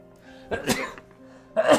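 A person sneezes indoors during a live stream, with a couple of close, loud bursts and a short pause between them and brief vocal sounds around them.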